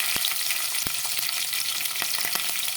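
Green chillies and tempering spices fry in hot oil with a dense, constant sizzle, broken by a few sharp pops and stirring clicks.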